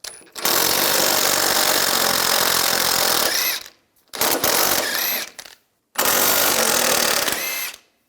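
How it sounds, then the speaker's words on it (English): A power tool with a 17mm socket runs in three loud bursts, a long one followed by two shorter ones with brief silences between, while removing nuts from the front lower control arm of a 2004-2009 Toyota Prius. "Using a 17mm socket, take these two nuts off, and then this bolt"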